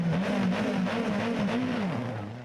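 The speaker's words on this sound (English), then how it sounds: "the engine is smoking in a bad way." A rally car with a badly smoking, overheating engine runs past during a stage, its buzzing engine note wavering up and down as it revs and fades slightly toward the end.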